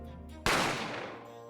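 A single sharp gunshot cracks out in The Great Ace Attorney, sudden and loud over a quiet musical backdrop, its echo trailing off over about a second.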